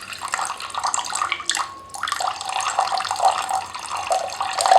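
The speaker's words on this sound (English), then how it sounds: "now that I've added my water" Distilled water pouring steadily into a container while making liquid body wash, a bright splashing stream with a brief pause midway before the flow resumes, close and continuous.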